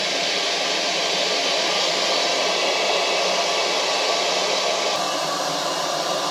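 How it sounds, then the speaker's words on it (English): Steady loud hiss of compressed air blown into the fuel tank of a 2003 Honda XR400R dirt bike, a continuous broadband rush that holds evenly for the whole stretch with a slight shift near the end. "I'm going to blow some compressed air into the tank and see if we can get anything at all to come out."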